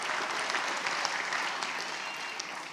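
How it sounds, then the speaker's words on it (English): Sustained, even applause fills a hall at the 2019 John Jay graduate hooding ceremony as the crowd claps for the graduates, a dense wash of many hands that slowly softens toward the end. "Another round of applause for our graduates here this evening."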